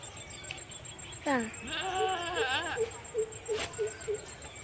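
A goat bleats several times in a wild, overgrown mung bean field, wavering cries fairly close, with a voice and other people talking around it.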